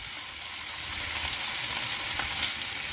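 Tuna sears in a hot pan for tataki, giving a continuous close sizzle with fine crackling that swells slightly as it goes on.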